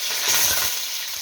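Onions sizzle in hot oil with mustard seeds, cumin and green chillies for a mushroom masala gravy, giving a brief, close, continuous frying hiss with a few soft stirring knocks.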